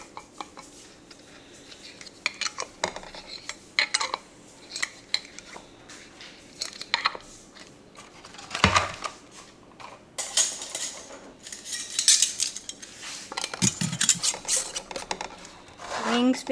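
New metal lids are set onto glass canning jars of potatoes, giving scattered light clinks, taps and scrapes of metal on glass at close range, irregular and moderately loud.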